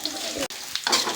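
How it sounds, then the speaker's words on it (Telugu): Dried red chillies sizzle in hot oil alongside cinnamon, cloves and ginger, a loud close frying hiss broken by one brief gap, with spoon scrapes in a short burst. "ఎండుమిరపకాయ ఫ్రై అయిందండి."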